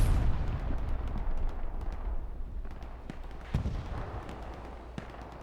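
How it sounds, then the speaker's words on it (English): A bombing run in the World War II shooter Hell Let Loose drops a string of deep booming explosions, a heavy rumble at the start followed by scattered thuds and cracks fading over several seconds. "the last bombing run called in for 2-6"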